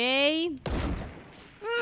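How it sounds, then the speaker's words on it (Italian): Submachine gun fire in the video game Fortnite, a short rapid burst of shots between stretches of a voice talking. "Sparo un po' di mitraglietta perché non ho tutti sti colpi."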